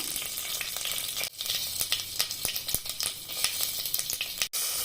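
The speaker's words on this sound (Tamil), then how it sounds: "கடுகு லைட்டாக பொரிஞ்சதும் ஒரு பட்டையும் 3 ஏலக்காயும் சேர்த்திக்கலாம்" Mustard seeds, a cinnamon stick and three cardamom pods crackle in hot oil for sambar rice, a close, busy sizzle full of sharp pops with two brief dips, no speech.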